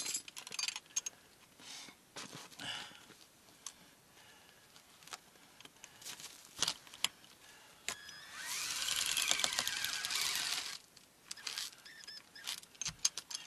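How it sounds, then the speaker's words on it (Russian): A cordless screwdriver with an adapter drives screw-in tent pegs into the ground outdoors, giving a loud whirring burst of a few seconds midway amid scattered clicks and handling noises. "Вот переходник шуруповерта на саморезы"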